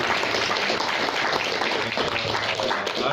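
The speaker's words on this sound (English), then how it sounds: "let me give a big applause to those who" An audience at a forum on the first year of the Trump presidency applauds, a dense, continuous wash of clapping that fills the room at close range.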